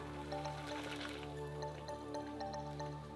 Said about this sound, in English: after blending, it says to transfer back into a saucepan and simmer for an additional 10 to 15 minutes, stirring occasionally